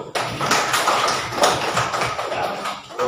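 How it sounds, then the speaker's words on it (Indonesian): Children in a classroom clap their hands together, a fast, uneven patter of many small palms that stays busy and fairly loud from start to finish, with no talking over it. "Bagus, tepuk tangan dulu."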